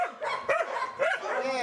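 Young puppies yip and bark in a quick run of high, bending cries, close and loud, with a whimpering edge between the calls.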